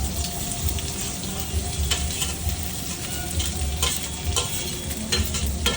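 Onions fry in a pan with red chillies, a constant close sizzle broken by repeated stirring scrapes and clinks of a spoon against the pan.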